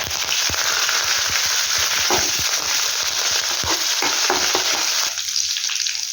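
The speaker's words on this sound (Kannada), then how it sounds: "ಈಗ ಅದು ಸ್ವಲ್ಪ ಚಟಪಟ ಆದಮೇಲೆ ಮೆಣಸಿನ್ಕಾಯಿ ಆ್ಯಡ್ ಮಾಡ್ಕೊತಿದ್ದೀನಿ ಹಾಗೂ ಕರಿಬೇವು" Green chillies and curry leaves drop into hot oil after mustard seeds and cumin have spluttered, for a green gram palya. Loud, continuous frying hiss is packed with rapid crackles and pops close up, without talk.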